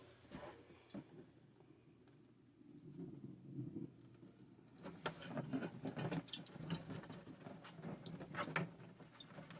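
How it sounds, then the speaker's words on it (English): Water sloshes and pours out of a neglected push mower's fuel tank, a close, trickling splash that starts softly, then swells into a steady, gurgling stream with small drips, with no voices. "Okay, we'll just dump our fuel tank out. This up here is nothing but water that's sitting up here."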